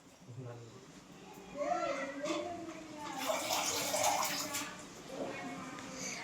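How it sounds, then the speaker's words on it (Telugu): Chopped vegetables are rinsed in water with splashing and sloshing in a domestic setting, under nearby talk and children's voices. "మళ్ళీ కోసి ముక్కలు చేసిన తర్వాత కడగాల్సి వచ్చింది"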